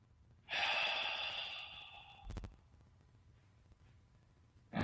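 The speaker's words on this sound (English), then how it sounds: "And then breathe out what you don't need. And breathe in." A long, deep inhalation or exhalation of guided breathing during a meridian body-clock exercise, a steady airy rush lasting nearly two seconds and heard up close, followed by quiet and another breath starting at the end.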